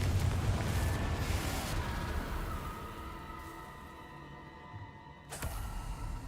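Confringo spell explosion in the video game Hogwarts Legacy, a deep rumbling blast that dies away slowly, followed by a second sharp crack near the end.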